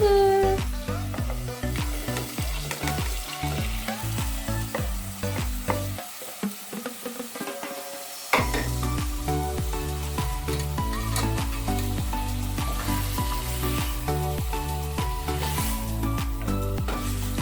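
Matumbo (tripe) sizzles and is stirred in a sufuria over a steady cooking fire, Kenyan style, a continuous frying hiss running through most of the stretch beneath prominent tonal background music.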